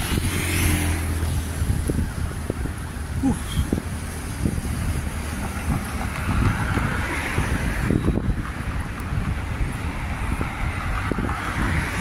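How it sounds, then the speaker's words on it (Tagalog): Strong wind roars continuously outdoors, buffeting the microphone with a loud, rumbling low-end wash that never lets up. "Sarap ang hangin."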